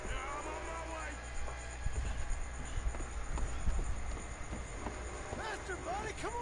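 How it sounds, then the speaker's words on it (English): Steam train approaching in Red Dead Redemption 2, a rumbling rolling clatter of wheels on rails with squealing metal tones rising toward the end, building steadily in loudness. "Train! Arthur, get up here quick!"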